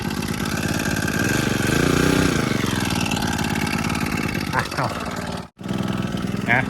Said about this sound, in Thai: เครื่องตัดหญ้าครับ